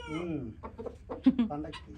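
A large rooster raised for breeding and kept ready for the festival clucks in short bursts close by, mixed in with people talking.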